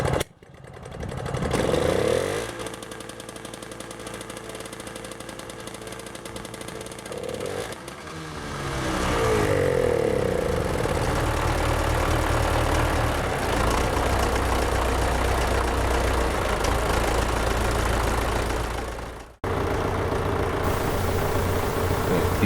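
A tractor engine runs with a mulcher attachment while mulching pumpkin vines in a field, a loud steady drone that rises in pitch and strength partway through, with a short break near the end.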